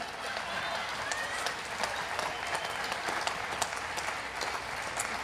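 Sustained audience applause at a youth choir concert, even and fairly distant, with sharp individual claps poking out of the dense wash for the full five seconds.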